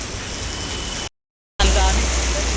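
Heavy rain falls steadily around a parked car, a dense, even hiss close by that cuts out briefly for a moment of silence and then returns just as loud.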